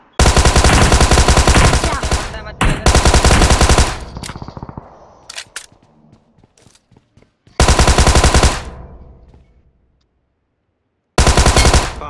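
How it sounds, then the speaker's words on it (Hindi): A bot fires guns in the battle royale game BGMI: loud bursts of rapid automatic gunfire, close and harsh, broken by short gaps and a longer pause before the shooting resumes. "बॉट फायरिंग कर रहा है देखो"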